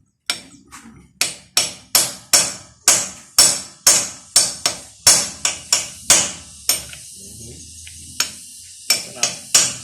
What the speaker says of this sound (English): We'll break this nut.